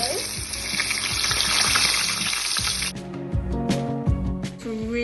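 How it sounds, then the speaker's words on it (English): Potatoes sizzle steadily in a hot pan, a dense close hiss that shifts after a few seconds into quieter frying with scattered pops and light clatter. "Start frying"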